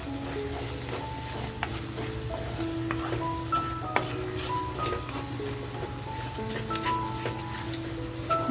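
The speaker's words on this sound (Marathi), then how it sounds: "मसाला असा छान ह्याच्यामध्ये फ्राय करून घ्यायचा आहे." Vajri masala fries in a pan with a continuous crackling sizzle, broken by occasional utensil scrapes and taps, while soft tonal background music plays beneath and nobody speaks.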